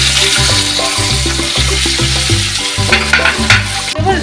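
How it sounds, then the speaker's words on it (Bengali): Eggplant, tomato and green chillies frying in oil with nigella seeds, a continuous hissing sizzle with scattered stirring clatter, set against a loud, pulsing low drone. "কালো জিরে দেওয়ার পর এখানে আছে বেগুন, টমেটো আর কাঁচা লঙ্কা। এগুলো হালকা করে ভেজে নেব।"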